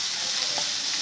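Prawn shells sizzle in hot oil for a brinjal and prawn-shell curry, a short, steady, bright crackle of frying up close with no voices.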